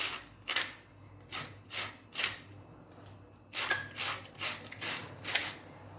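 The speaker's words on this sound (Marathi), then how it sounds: "आता ही कैरी जी आहे ती आपल्याला किसून घ्यायची आहे." Raw green mango being shredded on a large-hole grater for a spicy thecha, giving a steady run of rasping strokes, about two per second, fairly soft and close with brief pauses between passes and no talking.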